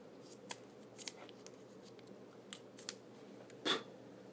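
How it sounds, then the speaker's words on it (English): Plastic wrap comes off a new Apple Watch Sport in a series of faint, scattered crinkles and small snips. A louder rustle comes near the end, and no one speaks. "Get this plastic off"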